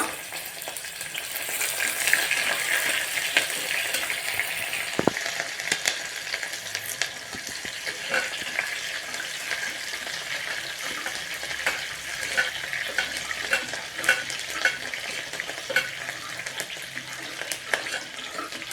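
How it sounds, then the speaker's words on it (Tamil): Chopped onion sautés in a frying pan with a bright, continuous sizzle, close and steady, overlaid with frequent light scraping stirs and a sharp clack near the start. "அதுக்கப்புறம் பெருவெங்காயம் ஒன்று அரிஞ்சு போட்டுக்கோங்க. அதையும் நல்லா வணங்க விடுங்க."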